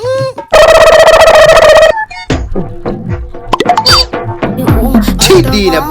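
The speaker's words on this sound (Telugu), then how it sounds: "ఎవరా ఫోన్ ఈ టైంలో?" A loud electronic phone ring sounds in a steady burst, then stops and gives way to clattering noises and voices.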